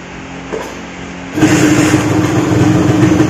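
A Yamaha RG motorcycle engine catches partway through and then runs steadily, a loud, even mid-pitched idle hum with a strong tonal drone after a quieter opening.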